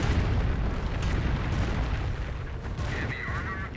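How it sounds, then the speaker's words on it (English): Calliope rocket barrage from the Company of Heroes 1 US faction, a dense, continuous roll of rocket explosions booming close and loud, with faint radio-like chatter entering near the end. "Here comes Calliope rocket barrage."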